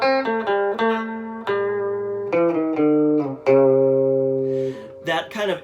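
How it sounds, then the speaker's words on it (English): A clean electric guitar with reverb plays a slow run of plucked notes and chords, each ringing out with an echoing tail, up close and clear, ending in a brief burst of scratchier sound. "That kind of echoey sound you hear is called reverb"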